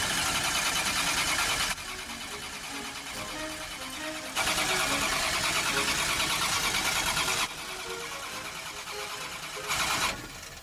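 A Ford Mustang starter motor cranks repeatedly in long whirring bursts broken by short pauses, a fast rhythmic chugging that never catches.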